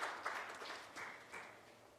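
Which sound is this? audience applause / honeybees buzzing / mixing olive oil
audience applause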